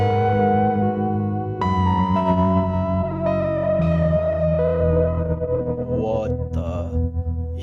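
Chroma Console guitar effects pedal running its interference effect: a loud, dense, sustained distorted guitar tone with shifting chords and harmonics, ending in warbling, glitchy modulated bursts, with no talking.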